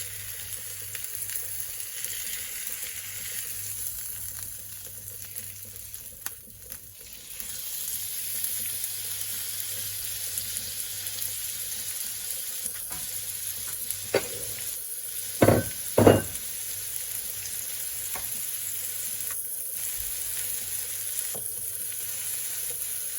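Steak frying with peppers in a pan after being flipped, a steady close sizzle that continues throughout, with a few sharp clinks and knocks midway.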